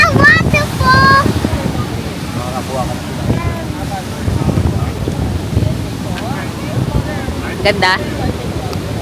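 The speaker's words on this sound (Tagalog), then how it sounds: "It's a waterfall." Rushing roar of a waterfall on a trip to Taupo, a constant broad wash of water mixed with wind buffeting, with people chatting and exclaiming over it.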